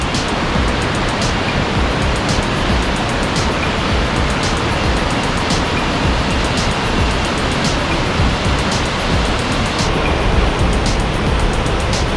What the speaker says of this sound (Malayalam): 300 മീറ്റർ ഉയരത്തിൽ 3 തട്ടുകളായാണ് ഇവിടെ വെള്ളം താഴേക്ക് പതിക്കുന്നത്